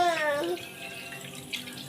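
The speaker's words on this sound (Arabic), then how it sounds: "هنضف بقى السمك دوت واحده واحده على ميه هاديه برضو كده تحت الميه." Fish rinsed piece by piece under gently running tap water in a home kitchen, a short splash of flowing water near the faucet that fades after half a second into quieter trickling.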